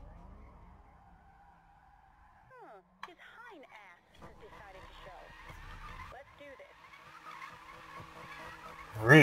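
A car drifting in the Need For Speed (2015) racing game, with long wavering tire squeals and skidding over engine drone, rising louder toward the end, under someone speaking.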